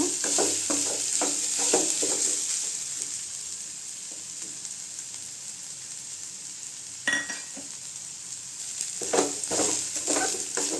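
Ridge gourd peel and grated coconut sauté in a pan, giving a moderate sizzle with repeated spatula scrapes that pause briefly midway and then resume.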